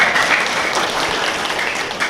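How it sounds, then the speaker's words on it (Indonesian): An audience at a motivational talk breaks into loud, dense applause that fills the whole moment without a break. "Oke, tepuk tangan dulu."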